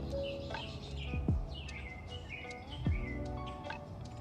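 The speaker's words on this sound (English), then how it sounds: "They just can't stop chirping." Several songbirds chirp and tweet in quick, scattered calls with a few sharp rising notes, steady and fairly close, with no voices.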